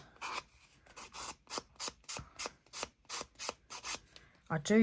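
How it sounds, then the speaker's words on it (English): Rhythmic rasping strokes of sandpaper along the edges of paper cabinet cards, about a dozen short scrapes in a steady back-and-forth pattern, close and fairly quiet, with a brief different rustle at the end. "I am quite careful when I sand on these, because I don't like those lines"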